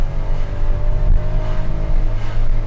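A Fiat Argo with the 1.0 Firefly engine revs steadily toward its 6,500 rpm limiter, a loud close droning engine note with a brief dip, heard alone without talk.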